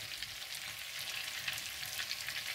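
Meat cutlets made from minced meat browning to a golden crust in a pan, giving a steady, dense sizzle and crackle that runs unbroken with no voices.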